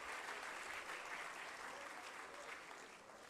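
Sustained audience applause fills an award ceremony, a dense, steady clapping that continues evenly throughout.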